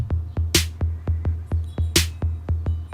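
A steady electronic footwork drum-machine beat with a low kick on each pulse and two sharp snare-like hits, repeating in an even, quick rhythm.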